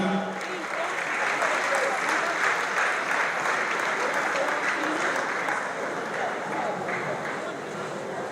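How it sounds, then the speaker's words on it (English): A conference audience at a Nigerian bankers' forum applauds a speaker being welcomed, a dense, steady round of clapping that fills the hall for the whole stretch and fades slightly near the end. "Put your hands together for Mrs. Oluwaferonmi Owolabi."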